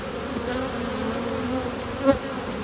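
Honeybees hum in a dense, steady drone at a large open beehive in an apiary, close by and continuous, with a brief louder buzz near the end and no talk.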